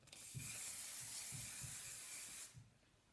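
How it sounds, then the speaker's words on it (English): Matrix Biolage hold number 2 fast-drying hairspray sprayed over curled hair in one long, steady hiss lasting over two seconds, close and loud, with a few soft low thumps underneath before it cuts off. "I'm going to give a good spray all over"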